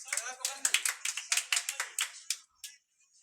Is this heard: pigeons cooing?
no